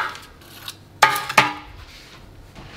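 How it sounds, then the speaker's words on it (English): Metal cone forms knock and clink as they are pulled from freshly baked puff pastry cones, two sharp bright metallic clanks close together over a quiet kitchen background. "right now we can just remove the forms from within"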